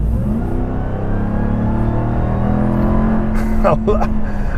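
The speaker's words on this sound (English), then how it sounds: "I love this supercharger whine." A pickup's engine drones steadily with a sustained supercharger whine layered over the low rumble, loud and close throughout.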